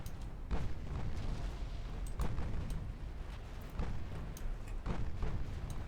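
Naval main guns fire on a battleship in the Ultimate Admiral Dreadnoughts game, heard as a run of deep muffled booms and rumbling blasts over a steady low roar, with shots spaced irregularly across the stretch.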